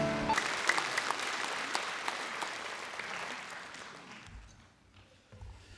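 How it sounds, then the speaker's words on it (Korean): Congregation applause during a Korean Sunday church service, a dense, fairly loud wash of clapping that carries for several seconds and then fades out, leaving a quiet room with low rumbles near the end. "감사와 영광의 박수 올려드리겠습니다."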